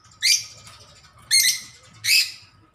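Lovebirds give three short, bright chirps, close and evenly spaced, over a quiet background hum.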